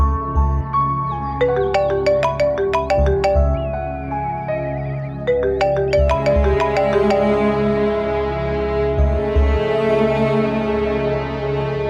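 A phone ringtone plays as a loud, continuous melodic tune with repeating bright chimes over a steady low beat, filling the whole stretch with no talk over it.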